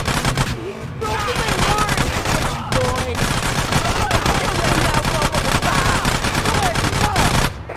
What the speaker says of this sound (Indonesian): Nah, ini baru tembak.